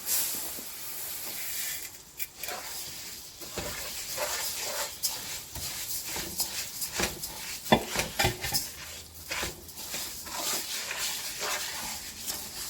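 Rice is tipped into a pot of hot oil and sauce for Cameroonian fried rice, then fries with a constant hiss while a spoon scrapes and knocks against the pot in an irregular rhythm.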